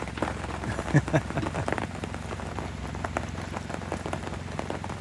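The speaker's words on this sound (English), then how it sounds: "it is raining. You could probably hear it too" Steady rain pattering on a surface at a 1/5th scale racing event, a constant dense hiss with scattered drops, close and fairly loud throughout.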